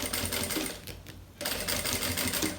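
A sewing machine stitches along the edge of a bag pocket, a close, rapid mechanical chatter that stops briefly for about half a second before resuming at the same steady pace.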